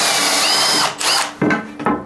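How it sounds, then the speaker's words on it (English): A power drill bores pilot holes for bath fixings during a bath installation, whining loudly and close in short bursts that rise and dip in pitch as the bit cuts through. "what I'm going to do is do a load of pilot drills all the way through"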